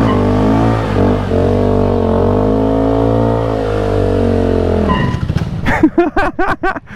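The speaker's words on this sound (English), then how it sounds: "We're drag racing the bike. All right, tires are hot. Let's launch it." A drag racing motorcycle revs loudly and steadily at high pitch, then snaps into rapid, rising gear-shift bursts as it launches and accelerates away on hot tires.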